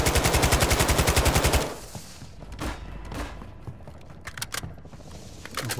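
Rapid automatic gunfire in a Call of Duty Warzone Resurgence match on Ashika Island, a sustained loud burst followed by scattered distant shots and clatter.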